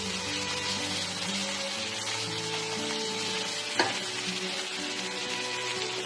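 Nasi goreng fried rice sizzles and crackles steadily in a pan at close range, with a brief clatter of stirring partway through and a low background hum; no one speaks.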